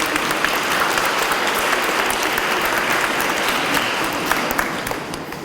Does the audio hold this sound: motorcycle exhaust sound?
no